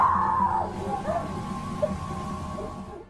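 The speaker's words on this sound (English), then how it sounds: "She drops her shopping and writhes on the floor, screaming loudly." A woman in a shopping mall screams loudly, one long sustained cry that fades into weaker wails, set against the noise of the crowd.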